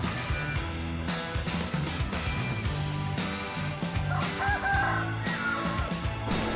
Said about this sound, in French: On aurait dû le manger hier ce coq. Il fait que hurler depuis 1 heure.